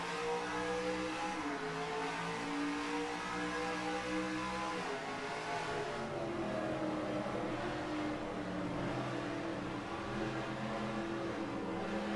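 NASCAR Racing 2003 race cars pulling away at the green flag at Milwaukee, a steady, droning roar of engines rising in pitch as the pack accelerates, heard from inside the car.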